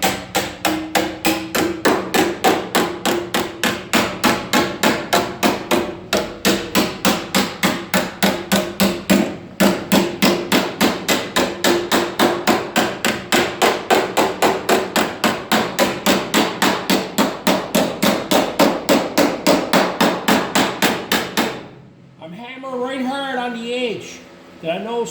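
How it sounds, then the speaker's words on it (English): Steady rapid hammer blows forming a sheet metal panel over an edge on a truck cab, loud and close, continuing for about twenty seconds before someone speaks. "All I'm going to do now is hammer form this over the end of it."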